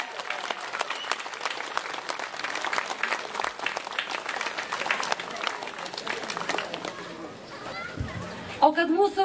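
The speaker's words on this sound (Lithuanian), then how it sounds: "Audringi aplodismentai!" Audience applause greets a prize winner at a children's celebration, a dense sustained clapping that fills the whole stretch, with children's voices mixed in and a brief louder burst near the end.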